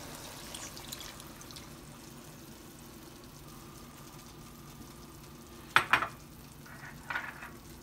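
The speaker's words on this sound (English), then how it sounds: "I'm going to put my soy sauce in it." Soy sauce is poured onto chicken adobo cooking in a pan, giving a faint, steady sizzle with a soft trickle. A couple of sharper clinks or splashes stand out briefly near the end.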